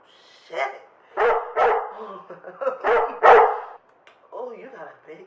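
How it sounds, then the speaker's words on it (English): A big dog barks in a quick run of loud, close woofs, with some yips and whimpering sounds mixed in, and a voice can be heard nearby. "Oh, you got a big dog."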